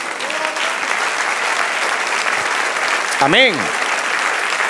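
A church congregation applauds during a Spanish-language worship service: steady, dense clapping from many hands that holds for several seconds, with a single voice calling out briefly near the end.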